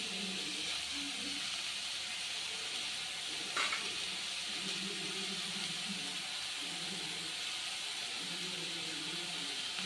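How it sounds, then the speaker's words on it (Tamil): Semolina (rava) sautés in a pan, making a steady, soft sizzling hiss throughout with faint scraping from stirring and one brief clatter partway through. "கொஞ்சம் நல்லா வதங்கணும். ஓரளவுக்கு வதங்கினா போதும், நல்லா வதங்க தேவையில்லை."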